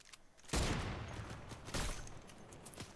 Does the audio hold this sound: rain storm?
no